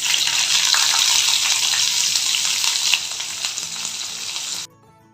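Onions and spices sizzle loudly in hot ghee for a prawn biryani, a dense steady crackle with faint scraping that eases slightly midway and then cuts off abruptly near the end.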